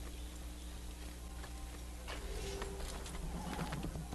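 Video game horse hoofbeats in Assassin's Creed clip-clop faintly over a steady background hum, a short run of irregular taps building in the last couple of seconds.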